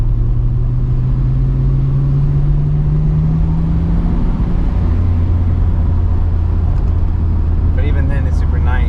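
Engine of a Nissan Skyline GT-R R34 drones loudly from inside the car while driving slowly through traffic in Japan, a steady low hum with a gradually rising pitch, later settling to a lower tone, with faint chirps near the end.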